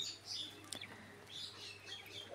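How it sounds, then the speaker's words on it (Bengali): Small birds in a cage chirp in short, high bursts, a few repeated calls scattered over a steady low hum, faint and close with no talking. "এই খাঁচাতে অল্প কিছু কোয়েল পাখি রাখছি আমি"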